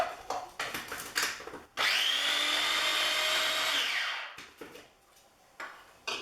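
A blender blade whizzes a pine nut and mushroom pasta sauce with ground pepper in one loud, steady whirring burst of a few seconds, with clattering handling sounds before and after.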